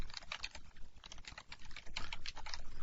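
Rapid keystrokes on a computer keyboard while entering program code for a console application, a steady close-up clatter of many quick taps with brief pauses, no voice.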